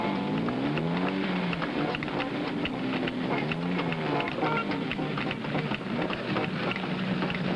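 Race cars from the 1967 BOAC 500 at Brands Hatch, including a Ferrari and a Lola, drive out to the grid. Engines rise and fall in pitch under a constant rushing hiss, like wind, with no speech.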